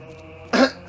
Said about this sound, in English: did I just cough a little bit more into your ear than you probably should have heard?